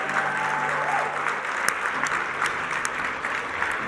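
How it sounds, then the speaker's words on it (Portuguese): A church audience claps loudly and steadily for a few seconds, many hands at once over a low musical hum, with a sustained tone fading early. "Aplauda Jesus, vai."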